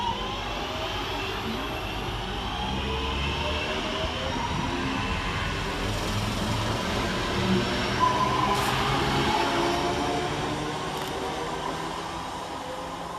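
Northern class 323 electric train 323-236 pulls away from Huyton railway station, a steady rising rumble and hum of traction and wheels on track lasting throughout, moderately distant, with faint squeals near the end.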